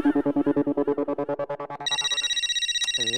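A phone ringtone plays alone: a rapid pulsing electronic melody that switches to a brighter, higher repeating pattern, close and loud.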